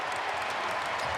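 A basketball arena crowd cheers and applauds at PNC during the closing seconds of NC State Wolfpack versus Miami Hurricanes, a dense, steady roar of many voices and clapping for just over a second.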